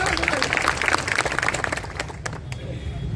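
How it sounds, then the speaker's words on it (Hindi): Protest crowd in Dungarpur, Rajasthan clapping for the SP, a scattered patter of claps mixed with crowd murmur and voices, moderately loud and thinning after the first two seconds. "इसके लिए एसपी साहब के लिए तालियां बजा दो भैया।"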